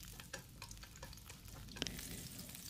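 Chopped lemongrass and chili sizzle in hot cooking oil in a pan, a quiet, steady crackle broken by occasional stirring scrapes, with no voices.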